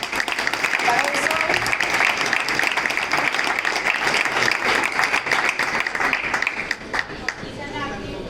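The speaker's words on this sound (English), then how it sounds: "let's give him a warm applause" An audience applauds a travel tech start-up competition winner, dense sustained clapping that stays loud and even for several seconds before tapering slightly, with a voice speaking faintly underneath near the end.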